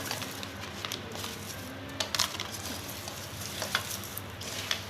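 Garlic cloves being stirred into a mango pickle (avakaya) mix in a bucket, a steady close scraping and churning with scattered small clicks and knocks, no voices.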